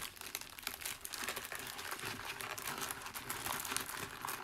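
A deck of playing cards is shuffled, giving a steady papery riffling and crinkling close by that continues without a break and with no one speaking.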